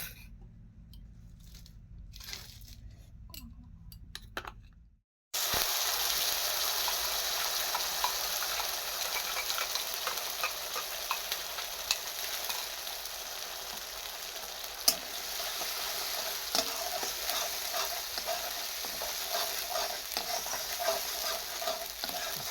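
Meat and potatoes fry in a wok, with a steady loud sizzle and the scrape of stirring that runs continuously once a quiet opening gives way to the hot pan.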